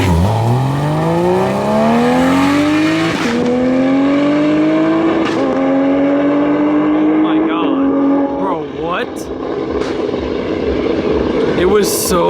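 A Barra-engined GT350 making a drag racing pass, its engine climbing loudly through the gears in long rising sweeps with gear-change breaks as the car slides sideways down the track, the roar fading slightly near the end.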